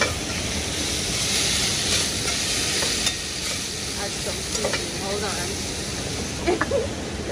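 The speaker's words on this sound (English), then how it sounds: "We're gonna stir" Crayfish cooking in coconut oil, stirred in a pan: a steady sizzle under continuous scraping and stirring, close and fairly loud, with brief clinks near the end.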